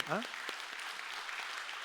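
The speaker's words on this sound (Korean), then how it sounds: "영광의 박수 확실히 치려면 쳐요" A church congregation applauds during a Sunday sermon, a soft, continuous patter of clapping that follows a brief voice at the start and runs steadily to the end.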